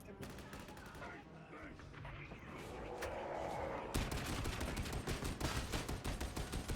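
Dense, continuous gunfire and explosions from a video game battle, loud and crackling throughout, turning into rapid volleys in the second half.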